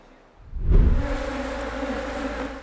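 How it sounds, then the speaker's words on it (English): Honey bees buzz at their hives on a farm in São Paulo state, southern Brazil. After a quiet start the swarm's dense, steady drone swells in and holds close and loud throughout. "Mauricio Rodrigues checks on his bees"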